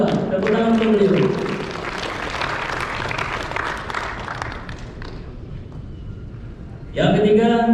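Applause from the audience at a community association gathering in Batam after a businessman is introduced. The clapping fades over several seconds while a voice speaks over its start, and the speaker's voice returns at the end.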